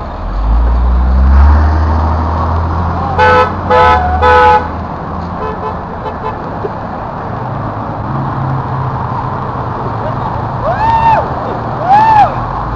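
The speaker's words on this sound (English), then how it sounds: "They're honking at us." Car horns toot at passers-by at a Halloween outing, a cluster of three short honks followed later by two more, sounding over steady traffic and street rumble.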